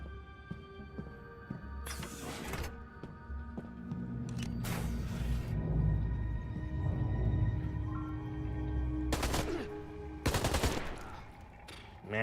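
Loaded AK rifle fire in the Beyond: Two Souls video game, a few sharp, loud bursts at irregular intervals over a low rumbling game ambience.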